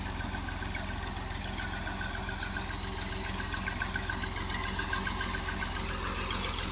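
A Fiat 480 tractor engine drives a water pump beside a canal outlet in Punjab, Pakistan, idling in a steady, even rumble with a faint metallic knock, unbroken and moderately distant.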